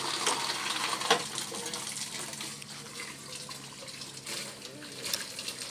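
Tap water runs steadily while hands are washed at a sink, a continuous splashing hiss with a brief louder splash near the start and faint voices in the background.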